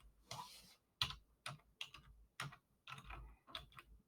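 Quiet keystrokes on a computer keyboard as a part name is typed, coming in short irregular bursts of clicks with brief pauses between them, fairly close and with no one talking.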